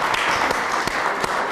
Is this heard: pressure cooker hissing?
no